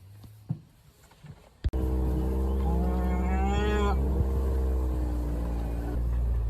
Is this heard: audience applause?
no